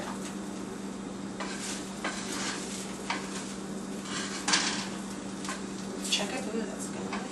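Bread with cheese frying in butter in a pan, a soft sizzle running under a person talking, with occasional clinks and scrapes of a utensil against the pan.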